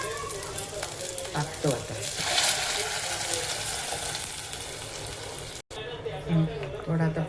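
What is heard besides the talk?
ground masala paste sizzling in pan for fish curry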